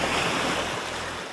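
Surf washing over a small wild pebble beach about 10 km from Neos Marmaras, Greece, a steady close roar of waves with wind rushing across the microphone and no voices.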